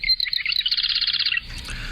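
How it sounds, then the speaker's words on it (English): An unidentified bird gives a rapid run of bright, trilling chirps lasting a little over a second, clear and fairly close, then breaks off over faint low background rumble. "There's that mystery bird again."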